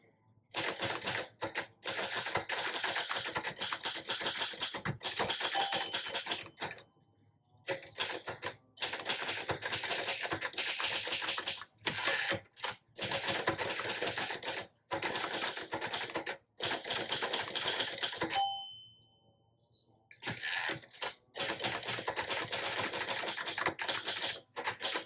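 A 1955 charcoal Royal Quiet Deluxe manual typewriter clatters in fast, continuous bursts of keystrokes, with brief pauses, a carriage bell and return sweep midway, then typing resumes, close and crisp.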